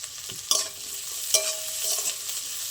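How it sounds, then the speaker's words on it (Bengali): Onion, garlic, ginger and green chilli frying together in a pan with stirring, a soft steady sizzle broken by a couple of sharp scraping knocks, close and moderately quiet with no talking. "সব একটু ভালো করে ভেজে নেবো একসাথে"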